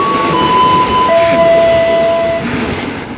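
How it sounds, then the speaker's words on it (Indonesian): An airport rail-link train runs through Rawa Buaya station in Jakarta, a loud steady rumble of cars with a long sustained horn tone held across most of the passage before the noise begins to fade. "ada kereta bandara dulu lihat"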